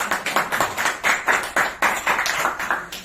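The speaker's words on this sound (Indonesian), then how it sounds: "Tepuk tangan anak-anak" Children clapping their hands in a classroom, a loose run of bright rhythmic claps, roughly a dozen beats in steady pulses, close and fairly loud with no voices over them.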